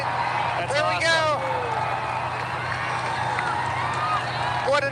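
Some 10,000 fans fill Saluki Stadium during a total solar eclipse, and the crowd's steady cheering and murmuring rolls through the open stands, with bursts of excited shouts and whoops rising above a continuous roar.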